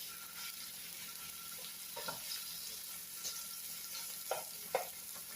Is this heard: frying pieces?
yes